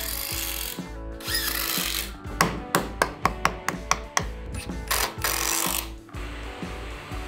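Power drill driving screws to fix furring strips for a compact study frame, a series of short sharp bursts with pauses between them, close and loud with a steady low hum underneath.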